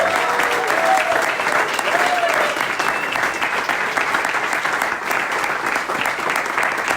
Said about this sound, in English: a warm applause to everyone who organized this event